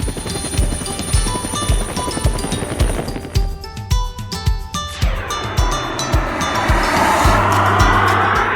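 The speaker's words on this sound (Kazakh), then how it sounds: "Тікұшақ." A helicopter with its rotor beating in a rapid, steady chop that swells into a loud whooshing roar as it passes close by.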